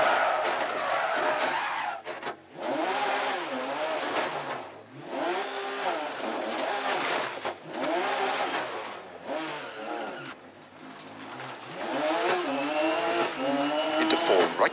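A Porsche 911 RGT Rally Spec rally car in Dirt Rally 2.0 races the Chandlers Creek stage over gravel and tarmac. Its engine is loud and constant, revving up and dropping again and again through gear changes.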